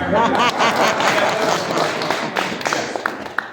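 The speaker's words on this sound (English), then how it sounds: "a round of applause for everyone who laughed at the jokes" Audience applause at a live Civil War songs and stories show: a dense, steady patter of many hands close by, with a voice speaking over the opening moments before the clapping thins out.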